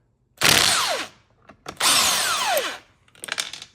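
An impact gun rattles loose a 17 mm bolt on the seatbelt receptacle of a Porsche Cayman/Boxster 987, two loud close bursts of about half a second and one second, then a shorter, lighter burst.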